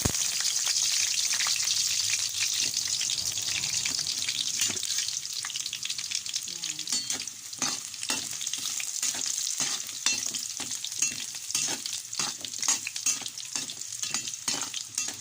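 Carrots and potatoes frying in a pan for chicken mechado, a steady bright sizzle running throughout, with soft stirring taps and scrapes growing more frequent in the second half.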